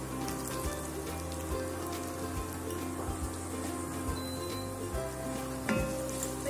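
Chopped onion frying in a pan for a palak vegetable biryani crackles and sizzles in a loud, continuous hiss, with a few sharp clicks and knocks of utensils scattered through it and no speaking.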